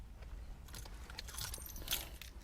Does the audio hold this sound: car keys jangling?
yes